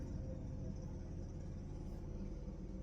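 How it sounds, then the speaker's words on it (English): Truck driving past an apartment window, a low, steady rumble of engine and tires heard from indoors, muffled and fairly faint, holding constant throughout without a clear peak. "A truck is riding past our apartment window."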